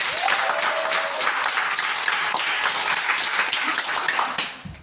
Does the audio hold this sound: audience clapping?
yes